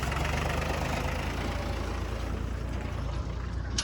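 An old Mahindra tractor engine idles steadily on a rural Indian farm, a continuous low rumbling drone that stays close and loud throughout, heard alone with no talking.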